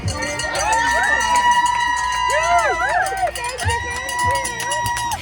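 Aid station volunteers at a mountain endurance race cheer runners and ring cowbells, their shouts and clanging steady and fairly close, mixed with other voices throughout.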